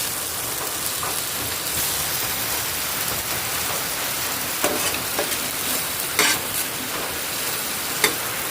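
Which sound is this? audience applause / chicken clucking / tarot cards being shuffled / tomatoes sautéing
tomatoes sautéing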